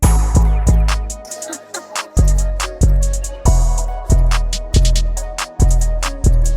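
A punchy hip hop beat loops steadily, with heavy booming kicks, crisp hi-hats and a repeating melodic line, loud and close with no talking.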